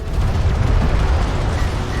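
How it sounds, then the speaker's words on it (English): Carrier missiles launching in the strategy game Homeworld: Deserts of Kharak, a loud continuous rumbling roar of rocket fire and blasts, heavy in the low end and sustained without pause. "Carrier missiles coming out now."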